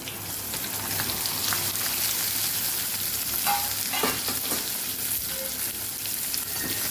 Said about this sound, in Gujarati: તો બધા ભીંડા આપણે ઉમેરી દઈશું